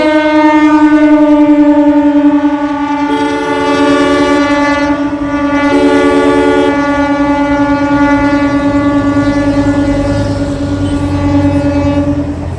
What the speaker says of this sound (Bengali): ট্রেন চলে গেল, ওই দূরে চলে গেছে।